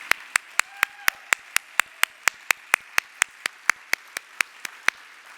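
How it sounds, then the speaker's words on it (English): Clapping for the tourism office team at a Louisiana travel summit comes as about twenty sharp, evenly spaced claps in a steady rhythm, crisp and fairly near against a quiet background. "Please stand up and give them a big round of applause"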